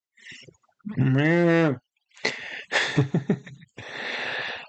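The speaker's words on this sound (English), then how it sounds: "All right, we got cows." A cow lows once outdoors along a wooded trail with roots and dead branches, a drawn-out moo standing clear of the background, followed by a person talking.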